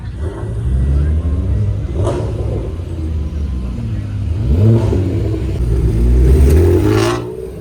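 Cars rolling in and passing at a busy GReddy 30th anniversary car meet, engines rumbling and revving close by with rising surges, under ongoing crowd chatter and talk.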